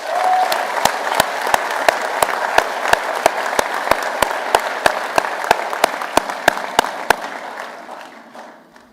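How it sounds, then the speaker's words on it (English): An indoor awards-show audience breaks into loud, sustained applause, dense clapping with a few sharper claps standing out over the top, holding steady for several seconds before it gradually thins and fades. "could we give them a big round of applause?"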